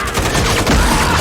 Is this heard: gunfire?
yes